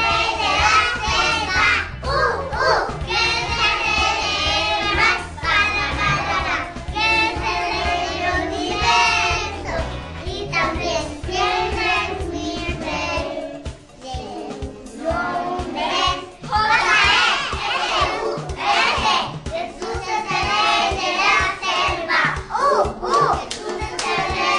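Schoolchildren at a school sing a song together, a loud group of young voices with clapping and some shouts, briefly dipping midway before carrying on strongly.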